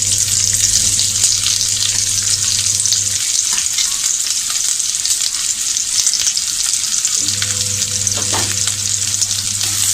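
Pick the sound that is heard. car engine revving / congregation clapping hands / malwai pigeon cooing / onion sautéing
onion sautéing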